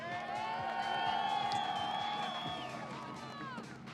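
A crowd at a Las Vegas drift event roars in support of driver Dustin Ferrell and his S15, with loud cheering, high whoops and whistles that swell and then slowly fade.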